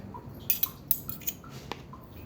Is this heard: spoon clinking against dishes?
yes